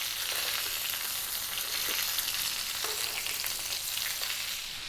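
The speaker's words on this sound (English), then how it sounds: "Okay, 3 minutes of basting, and I'm going to be turning it a little, you know, once or twice again" A thick bone-in rib eye steak sizzles steadily in a hot pan while being basted, a continuous close, bright frying hiss with faint stirring and spooning noises.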